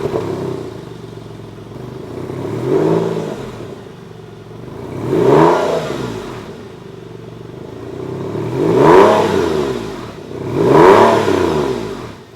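A Porsche 911 engine is revved four times in turn, each rev swelling to a loud, rising wail before falling back to a lower idle hum.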